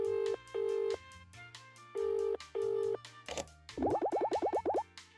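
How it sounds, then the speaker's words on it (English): Telephone tones in a Paper Mario-style video game: a series of short steady beeps in a dialing rhythm, then a brief burst and a rapid string of rising chirpy blips, all clear and close with no talking. "Please wait 1 second while I phone my boss."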